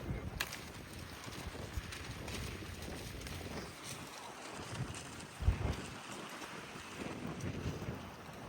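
Strong wind gusting outdoors at night, buffeting the microphone with a steady rushing roar and occasional louder blasts, no voices.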